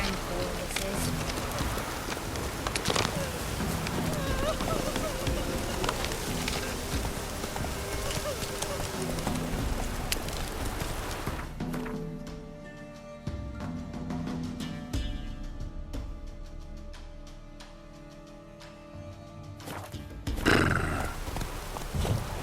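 In The Witcher 3 video game, a horse gallops with rapid rhythmic hoofbeats amid rain and wind, under game dialogue and a voice, then the hoofbeats slow and change near the end.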